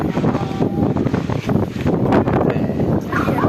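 Strong gusty wind before rain in Ayutthaya after work, buffeting loudly and unevenly in rushing bursts with rustling and noisy roar.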